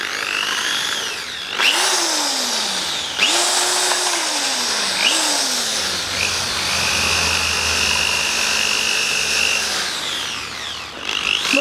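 A power drill whirs up and down in repeated bursts as a wire brush scrapes and grinds against metal on a Land Rover Discovery 4, loud and close throughout.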